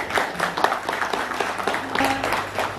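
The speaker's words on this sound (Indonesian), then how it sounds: "Luar biasa. Tepuk tangan." Applause from an audience at a welcoming ceremony and visit to the Keraton Matan Tanjungpura in Ketapang, Kalimantan, a dense, steady wash of clapping lasting throughout at moderate distance, with faint traces of voices.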